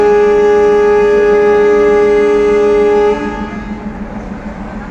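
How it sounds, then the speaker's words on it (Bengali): A train pulls out of Joydebpur railway station with a loud, sustained horn blast that cuts off after about three seconds, leaving a lower rumble of the moving train. "এখন ট্রেনটি ছেড়ে যাচ্ছে"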